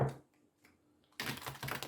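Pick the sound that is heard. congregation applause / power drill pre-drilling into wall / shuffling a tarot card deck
shuffling a tarot card deck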